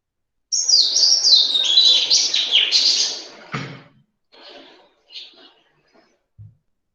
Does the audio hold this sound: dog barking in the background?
no